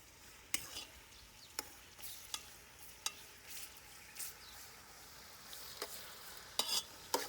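Chopped onions fry in oil in a pan, a soft continuous sizzle broken by sharp clinks and scrapes of a spoon stirring at irregular intervals, quiet and close with no talking.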